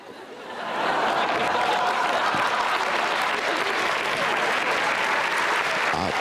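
An audience at the final of a Russian beauty pageant breaks into sustained, loud applause that swells within the first second and keeps up evenly throughout.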